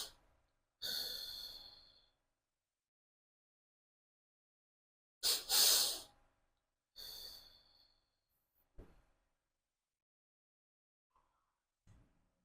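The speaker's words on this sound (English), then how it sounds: "You can try double inhale and then a longer exhale." Someone demonstrates a breathing exercise of a double inhale followed by a longer exhale, with several separate breath sounds, close and clear, spread out among long silent pauses.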